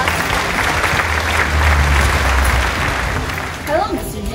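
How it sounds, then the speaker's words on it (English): A round of applause from an audience greeting special guests at a presentation, a steady, dense clapping wash lasting several seconds and fading toward the end. "A round of applause."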